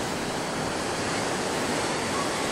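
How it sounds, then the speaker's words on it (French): Big ocean waves crash and roar continuously at Puerto de la Cruz, Tenerife, a dense, steady wash of surf noise with no break across the moment. "C'est des grosses vagues"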